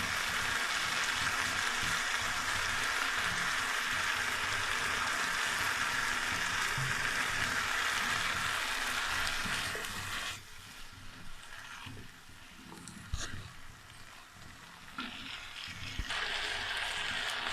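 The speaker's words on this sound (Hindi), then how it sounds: "सब्जियां हमारी अच्छी तरह फ्राई हो गई हैं" Vegetables seasoned with black pepper and vinegar fry in a pan for chicken fried rice, a close, steady sizzling hiss that softens and turns patchier partway through.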